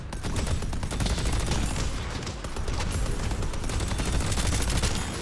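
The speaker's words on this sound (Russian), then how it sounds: "Так, какие-то звуки выстрела слышу." Rapid gunfire and fight noise from the video game Deadlock, a dense continuous barrage of shots and impacts filling the scene at steady loudness with no clear pauses.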